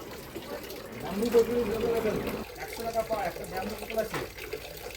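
Clean mountain spring water pours from a bamboo spout set into a hillside near caves in Cherrapunji, a soft steady trickle and splash that runs throughout under a person speaking.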